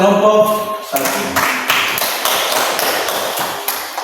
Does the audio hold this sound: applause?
yes